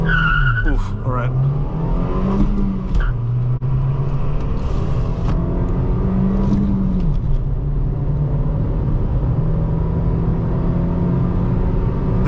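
A 2020 Nissan Versa S with a 1.6-litre engine and manual gearbox launches hard from a standstill. The engine revs loudly and close up, rising and falling through the run, with tire squeal during the launch.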